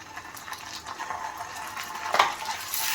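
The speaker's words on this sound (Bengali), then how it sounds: "আদা রসুন বাটা দিচ্ছি।" Ginger garlic paste frying in oil in a pan for a Bengali prawn dish, a soft steady sizzle with light stirring scrapes and one sharper clink near the end, close and fairly quiet with no talk.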